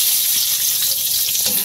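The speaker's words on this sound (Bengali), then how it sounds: "টুকরো করা পেঁয়াজ রসুন দিয়ে দিলাম" Chopped onion and garlic fry in a pan, giving a loud, close, continuous hissing sizzle with faint stirring knocks and a sharp clunk at the end.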